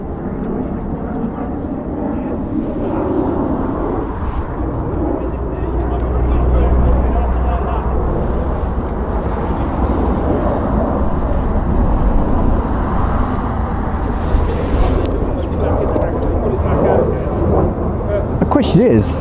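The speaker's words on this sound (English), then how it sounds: "thank you very much, Typhoons, for coming through" Typhoon fighter jets passing at RAF Waddington during the Cobra Warrior exercise, a broad, sustained roar that swells toward the middle and later stretches, heard at a distance under outdoor wind noise.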